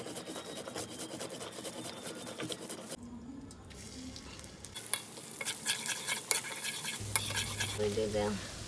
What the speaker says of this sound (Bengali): কড়াইয়ে সরিষার তেলে মরিচ রসুন বাটা পাঁচফোড়ন পরিমাণ মতো হলুদ লবণ দিয়ে মশলাটা কষিয়ে নিতে হবে